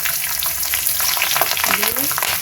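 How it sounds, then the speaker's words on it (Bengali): Cumin seeds sizzle and crackle in hot oil in a pan, a steady loud frying hiss that runs continuously with light stirring scrapes, close up and without talk. "তেলটা দেখুন গরম হয়ে গেছে। এবার আমি এতে বেশ অনেকটা জিরে দিয়ে দেব।"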